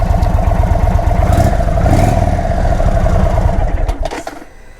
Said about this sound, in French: Et on part la moto, aussi simplement que ça.